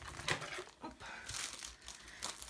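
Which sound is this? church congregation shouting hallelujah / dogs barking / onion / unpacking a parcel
unpacking a parcel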